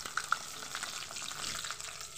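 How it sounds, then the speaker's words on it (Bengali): Eggplant slices fry in hot oil over a lowered gas flame, giving a steady soft sizzle and crackle with a couple of brief sharp pops near the start, close and fairly quiet. "এবার আমি ভেজে নেব।"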